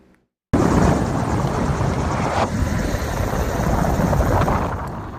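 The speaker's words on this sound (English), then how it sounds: "a chopper dumping water on another brush fire near Santa Clarita" A firefighting helicopter dumping water on a hillside brush fire near Santa Clarita, a loud, steady rotor roar with rushing wind noise starting abruptly and continuing without speech.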